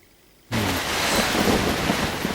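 Heavy rain pours down steadily at a fishing lake during a carp fishing session, a dense, loud hiss that starts abruptly after a brief quiet moment and continues without a break, with no voices.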